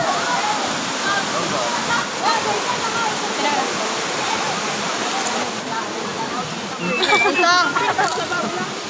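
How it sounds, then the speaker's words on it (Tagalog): A mountain stream below Langit Langit Falls rushes steadily, a loud, continuous broadband roar of flowing water. Faint voices and splashing rise near the end. "Kaning sapa nga among gikaliguan karon, mao ni siya ang giagyan sa tubig adtong falls"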